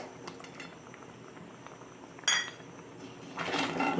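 Metal clinks and a spoon scraping in a pot as boiled onions go into milk and get stirred, with a sharp clank partway through and a louder stirring rustle near the end.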